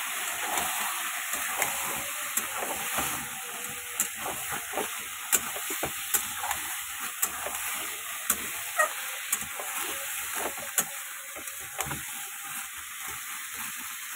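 Whole garlic, onion and chicken frying in a pan, a soft continuous sizzle broken by repeated scraping stirs and small knocks of a spoon, fairly close and fairly quiet.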